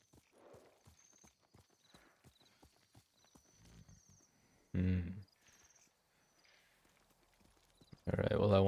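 A horse walks in the game Ghost of Tsushima, its hooves clip-clopping at an even pace over faint crickets, with two louder bursts of rustling.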